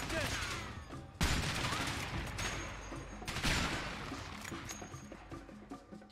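Steady gunfire crackles through a firefight in A Way Out, repeated sharp shots and volleys over a dense battle din, with occasional stronger bangs standing out.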